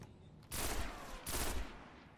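Two bursts of gunfire in the video game Destiny, Trials of Osiris, each a dense, rapid volley lasting under a second, loud and close, with a short gap between them and no voices.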